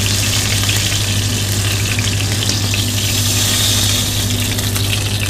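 Pieces of meat browning in hot oil in a pan for a stew give off a loud, continuous close sizzle and crackle with no voices.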